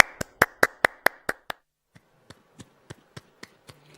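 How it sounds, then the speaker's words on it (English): Clapping at an online transport awards ceremony: a handful of crisp, evenly spaced claps from one nearby person, then a short pause and a quieter, sparser series of individual claps from another source. "Let's have a massive, albeit virtual, round of applause."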